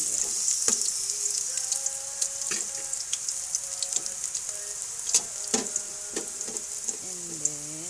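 Garlic and onion fry in a pan for a native chicken dish, a steady bright sizzle up close with occasional spatula scrapes and clinks. No one speaks.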